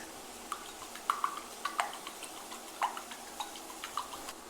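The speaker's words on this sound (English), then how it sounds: "So now I have my beautiful eggs that I'm also going to season some salt. Give it a whisk." Salt-seasoned eggs whisked in a bowl for a breakfast sandwich, a quiet run of light, irregular clicking taps of the whisk against the bowl, faint and close, with no one talking.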